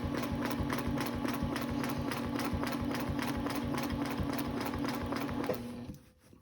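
A sewing machine stitches fabric along a ruler, its needle chattering in a fast, even mechanical rhythm close by for several seconds before slowing and stopping.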